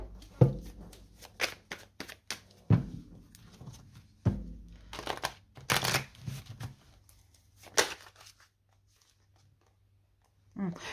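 Green magic tarot cards shuffled in bursts of quick riffling slaps and thumps, several separate rounds spread over several seconds with a quiet pause near the end, close up with no talk.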